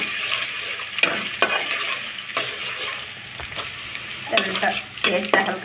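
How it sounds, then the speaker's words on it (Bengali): Chopped onions and slit green chilies fry in hot soybean oil with a bay leaf, giving a steady close sizzle broken by several sharp stirring scrapes and clatters of a spoon against the pan. "ভেজে নেব।"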